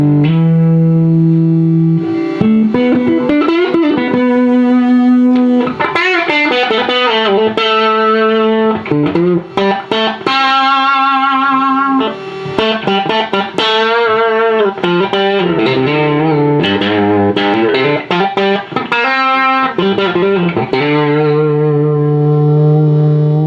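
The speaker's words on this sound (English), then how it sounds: "So here's the Zen drive for you." Electric guitar driven through a Zen Drive overdrive pedal, playing sustained chords and melodic lines with warm, moderately distorted tone and a touch of reverb, loud and alone without talking.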